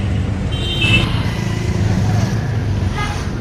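An auto rickshaw engine runs while driving through Bareilly, a steady low rattling drone close by with traffic hum around it and a few faint high chirps or horn-like tones.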